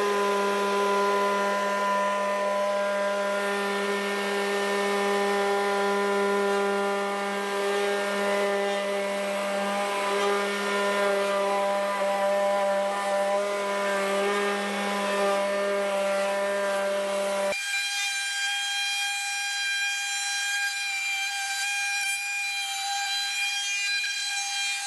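A router running on a planer sled skims across a rough wooden board, giving a steady high-pitched whine with a shifting cutting roar; partway through the pitch jumps and the lower grinding drops away, leaving a thinner tone.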